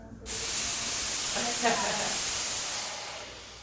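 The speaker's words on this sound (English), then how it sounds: "I don't want it to be too much sizzling actually." A sudden loud hiss of something hitting a hot pan, steady sizzling that slowly fades over a few seconds.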